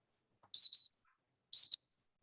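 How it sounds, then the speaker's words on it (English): Two short electronic beeps, each a rapid double-chirp about a second apart, sound as a five-minute warning before the end of an online seminar. They are clear and high-pitched against silence. "Yeah, this short sound is for reminding 5 minutes before ending."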